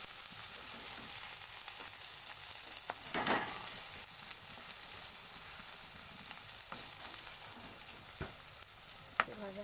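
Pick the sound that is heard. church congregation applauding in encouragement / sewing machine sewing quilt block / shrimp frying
shrimp frying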